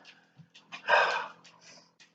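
Big dog vocalising close by indoors, with a few soft grumbles and one louder whining bark-like burst, quiet between sounds.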